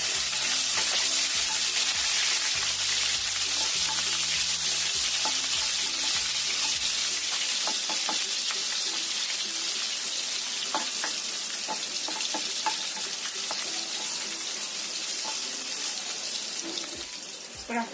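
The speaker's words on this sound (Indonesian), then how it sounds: "Ini kita tumis dulu bawang merah dan juga bawang putihnya sampai harum." Shallots and garlic sautéing in about three tablespoons of leftover oil in a home kitchen, a steady loud sizzle and crackle that runs throughout, with music playing under the first several seconds.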